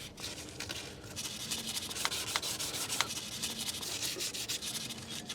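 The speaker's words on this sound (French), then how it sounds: "Je vais déjà nettoyer le plan de joint." Steady scrubbing and rubbing while the gasket mating surface of a BMW M57 oil pan from a 530d E60 is cleaned, a continuous close abrasive rasp with a few sharper scrapes, no talking.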